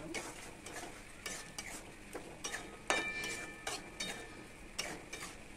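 Fried arum stalks being stirred into a spiced masala in a pan, with repeated scraping strokes of the spoon and a soft sizzle underneath, close and steady.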